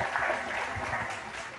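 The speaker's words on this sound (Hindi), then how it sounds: "जोरदार तालियां," Studio audience applauding to welcome an architect guest on an interview show, a fairly quiet but continuous wash of clapping with a voice speaking over it.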